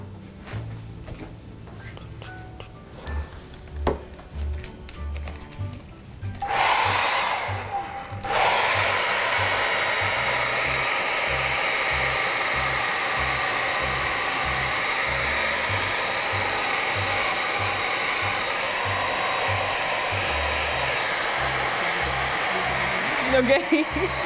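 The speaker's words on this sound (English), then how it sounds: "Going to blow dry this right quick." A hair dryer roars on close by, blowing steadily and loudly for many seconds to dry a painting, after a stretch of softer indoor handling noise.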